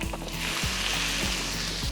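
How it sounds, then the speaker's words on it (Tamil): Mustard seeds spluttering and popping in hot oil as tempering for a Tamil egg curry, a steady close sizzle broken by a few sharp crackles, with no talk. "ஸோ கடுகு பொரிய ஆரம்பிச்சிருச்சு."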